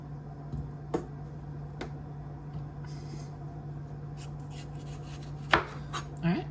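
A knife cuts a pepper on a cutting board with a few sharp, separate chops spread over a steady low kitchen hum, the strongest cut landing near the end.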